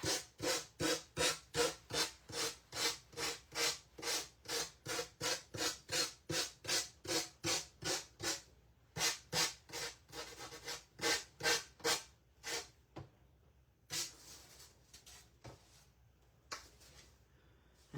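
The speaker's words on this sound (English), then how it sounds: "Let me sand these off." A wooden pumpkin door hanger is hand-sanded in quick, rhythmic back-and-forth scrubbing strokes, close and distinct, with a short pause midway before the rubbing continues and then fades out.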